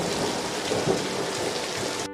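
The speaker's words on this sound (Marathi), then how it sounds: "धो धो मुसळधार पाऊस पडतच होता वरून विजांचा कडकडाट होत होता" Heavy rain pours in a dense, steady hiss with a low rumble of thunder rolling underneath, continuous and loud throughout.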